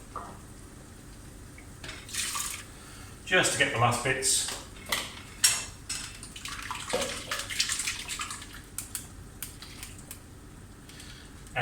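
Water poured into a blender holding blended spinach and onion paste to rinse out the last bits, splashing and sloshing in bursts while a person talks over it.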